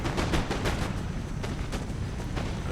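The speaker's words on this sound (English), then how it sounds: "So, oh, there was another grenade throw." Battle noise from a multiplayer Empire: Total War match with grenadiers throwing grenades, a dense continuous rumble of repeated blasts and crackling fire with no voices.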